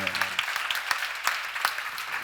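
A church congregation claps steadily throughout, a dense, even wash of applause from many hands in a worship hall.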